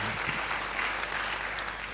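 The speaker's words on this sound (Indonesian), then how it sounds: "Beri tepuk tangan yang baik buat dia." A church audience claps in a dense, steady burst of applause filling the room, with a faint voice at the start.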